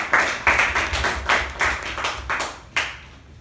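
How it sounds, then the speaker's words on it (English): Audience applause at a Toastmasters club meeting, a small group clapping in uneven bursts that rise and fade over a few seconds, fairly close and with no talk over it. "Can we have a huge round of applause for this?"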